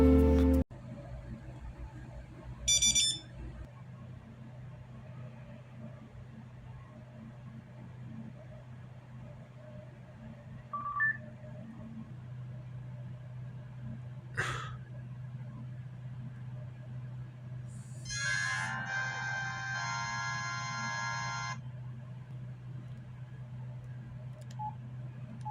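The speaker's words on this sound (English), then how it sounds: "Some of them have pretty interesting shutdown noises too." Short electronic shutdown tones from several 2000s cell phones, brief beeping jingles and melodic chirps spaced apart over a steady low hum, fairly faint and close.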